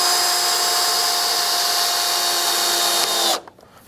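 Phillips screw gun driving 2.5-inch screws into pre-drilled holes in wood during gym equipment installation, one steady high-pitched whir running continuously for over three seconds, then cutting off abruptly near the end.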